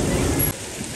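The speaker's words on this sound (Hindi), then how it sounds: "आपको बादलों की आवाज आ रही होगी, बड़ी बेहतरीन बारिश है माशाल्लाह से" Heavy rain and thunder in Quetta: a loud, dense wash of falling rain with low rumbling body, steady for half a second then dropping slightly in level, with no voices.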